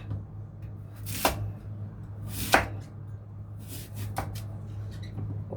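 A few firm knife chops cut taro into small pieces on a cutting board at uneven intervals, close by, over a low steady hum.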